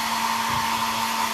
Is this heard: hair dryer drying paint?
yes